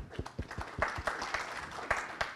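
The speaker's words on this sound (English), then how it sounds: "Big clap for them." Meetup audience at a Capital Factory tech gathering clapping for the event's sponsors: a brief scattering of individual claps, fairly quiet and a little uneven, with no talking over it.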